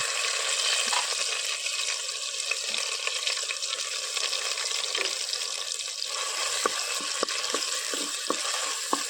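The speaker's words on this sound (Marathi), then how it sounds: "या आधी ही मिरची आणि लसूण फोडणीत टाकते" Chili and garlic frying in hot tempering oil for a village-style Malvani jackfruit vegetable, a steady close sizzle with occasional soft stirring clicks and no talking.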